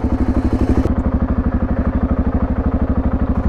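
A BMW G650GS motorcycle engine runs close by with a loud, steady, rapid thumping beat that continues evenly throughout.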